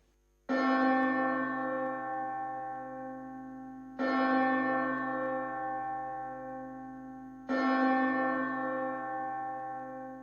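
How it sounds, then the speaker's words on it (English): Church bells call people to Mass: a large bell rings three times at slow, even intervals, each stroke ringing out and slowly fading before the next. "As the church bells rang and people gathered for Mass"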